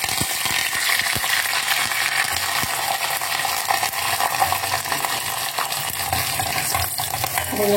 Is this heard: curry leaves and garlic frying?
yes